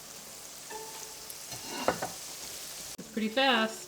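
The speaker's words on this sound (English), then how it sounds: "let's get started frying Sarah's plain corn dogs first" Corn dogs sizzle and crackle in hot frying oil with a steady bubbling hiss, and someone talks briefly over the frying.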